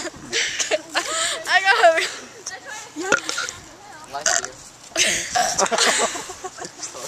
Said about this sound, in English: We should have 5 minutes of burping.